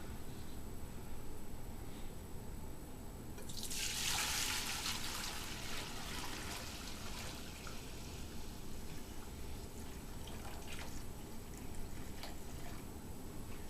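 Water poured into a 6 quart pressure cooker, a brief bright splashing pour that swells and fades over a few seconds against a steady background hiss.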